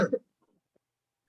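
A single short, throaty cough, close and fairly loud, followed by near silence.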